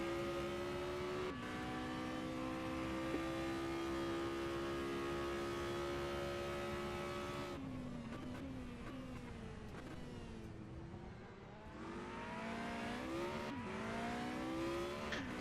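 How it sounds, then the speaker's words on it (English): Race cars circling Kyalami circuit in South Africa during an IMC 2023 race, engines droning steadily and shifting pitch as they accelerate and pass, a continuous loud roar at some distance. "It's just so nice to see the cars, you know, moving around."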